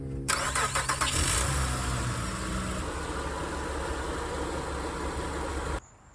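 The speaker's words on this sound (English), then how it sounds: "Now I'm gonna start the truck and let it run for about 5 minutes." A truck engine cranks and catches, then settles into a steady, loud idle close by before cutting off, during a check for a transmission leak.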